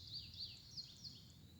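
Indigo bunting singing high in the treetops, a thin series of faint, high-pitched sweet phrases repeating over soft outdoor ambience.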